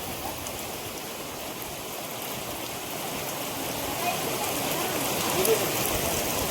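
Heavy monsoon rain near the Parnera Chamunda temple in Valsad pours down in a steady, dense hiss that swells slightly toward the end, with no talking.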